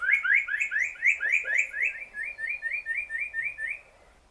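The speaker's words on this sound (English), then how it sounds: "This is one of the birds that we were looking for, called the spot-breasted parrotbill." A spot-breasted parrotbill calls at Doi Lang, Thailand, giving a rapid series of clear, rising whistled notes repeated in a steady run, fairly close and alone, before stopping.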